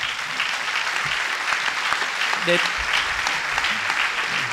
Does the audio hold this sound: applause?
yes